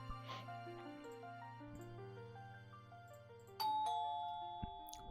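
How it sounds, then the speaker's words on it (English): A story-style doorbell sound effect: a two-tone chime rings clearly over a soft sustained musical backdrop, standing out alone with no talk over it. "Suddenly the doorbell rang, breaking the heavy silence."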